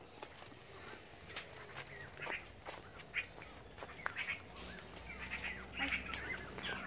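Small birds sing outdoors on a farm field during a cucumber harvest, with repeated short high chirps and trills scattered over steady background noise and faint low rumble.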